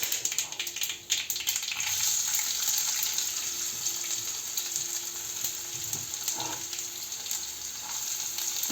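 Onions fry in a pan after cumin seeds, making a steady, fairly loud sizzle with occasional crackles and a brief stirring scrape, no voices.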